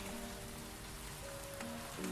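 Steady rain falls outside as a soft, even hiss, with faint low tonal hums running beneath it and no voices.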